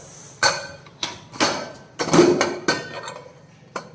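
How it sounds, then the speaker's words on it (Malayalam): A pressure cooker lid is worked open after beef has cooked inside: a handful of sharp metallic clanks and clicks at irregular intervals, close and fairly loud against a quiet room. "അപ്പോൾ കുക്കർ നന്നായിട്ട് തണുത്തിട്ടുണ്ട്. നമുക്കൊന്ന് തുറന്നു നോക്കാം."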